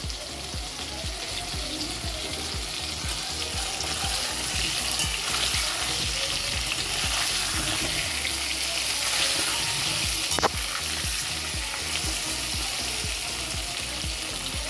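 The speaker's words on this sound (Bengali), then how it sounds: "একটু হলুদ আর অল্প নুন দিয়ে ভেজে নেব।" Potatoes frying in a pan with turmeric and salt give a steady, close sizzle with rhythmic scraping from stirring throughout, and one sharp click near the end.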